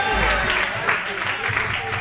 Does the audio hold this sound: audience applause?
yes